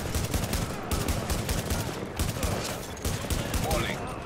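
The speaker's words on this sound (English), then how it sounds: "Secondary guns are shooting at him now." Secondary guns in a naval video game fire at a destroyer, a dense fusillade of rapid overlapping gunshots with rhythmic bursts, loud and close, with game effects mixed in.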